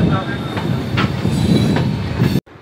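The Panchagarh Express runs along Bangladeshi rails with loud, close rumbling and rhythmic clickety-clack wheel beats over the joints, cutting off abruptly near the end.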